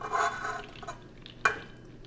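Al dente ziti pasta is stirred together with ricotta in a bowl, giving soft, moist scraping and squelching strokes with a sharper clink partway through, close and quiet.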